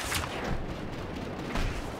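A rocket launcher fires in Battlefield 3: a heavy, broadband blast right at the start, a rumbling wash after it, and a second loud burst near the end, all close and without talk.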